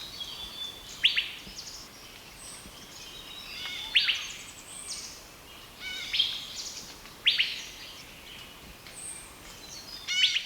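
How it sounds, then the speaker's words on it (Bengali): A forest bird in Satchari forest, Sylhet, repeats a bright chirping call roughly every one to three seconds, clear and moderately near over a quiet background. "ওর বিরামহীন ডাক অত্যন্ত শ্রুতিমধুর"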